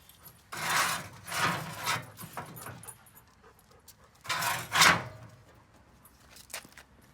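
A pull-out step on a cargo trailer being converted to a camper is drawn open, giving two bursts of scraping, rasping metal-on-metal sliding with softer clunks between and after, close and fairly loud with no talking.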